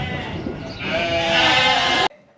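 Large Texel lambs in a flock on an Irish farm on shearing day bleat in one loud, wavering cry close by, rising over background farm noise before it cuts off abruptly.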